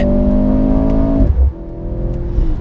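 A 2022 Mercedes-AMG C43 with an electric turbocharger accelerates hard in third gear through a tight corner, its engine note climbing steadily, dropping briefly around a shift, then pulling loudly again close by.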